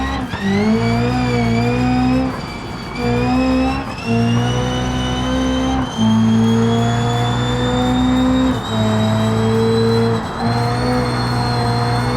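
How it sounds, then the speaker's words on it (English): A racing car in a video game on the Nordschleife, its engine loud and close with a steady high revving drone that climbs in pitch and drops briefly at each gear change, tyres being burned. "Now this one we are gonna burn the tires up on."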